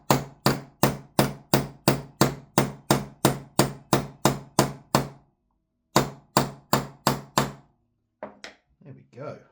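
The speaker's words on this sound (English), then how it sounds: "Sorry for the tapping noises." A hammer taps pins into an AR-style rifle's forward assist: about fifteen sharp, evenly spaced close strikes, a brief pause, four more taps, then a few softer knocks.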